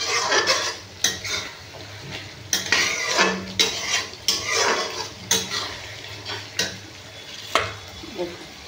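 Masala with chopped tomatoes being stirred and sautéed in a pan for a village-style cauliflower, egg omelette and potato curry, a soft sizzle under repeated sharp scrapes and clinks of a spatula against the pan, coming in irregular bursts.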